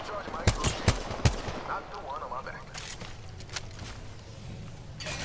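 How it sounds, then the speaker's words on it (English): Rapid gunfire in the battle royale game Apex Legends as a player fires at a squad on a roof, a quick burst of sharp close shots followed by more distant fire, under someone talking. "just taking shots at this one squad, trying to force them off this roof"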